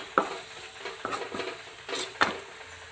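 Crushed dried red chili stirred into a pan with fried shallots and garlic, a spoon giving several distinct scraping strokes against the pan over a soft sizzle.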